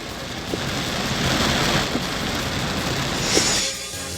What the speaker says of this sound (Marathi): रात्रीपासून पावसाचा जोर वाढल्यानं शेतशिवार पाण्याखाली गेलं.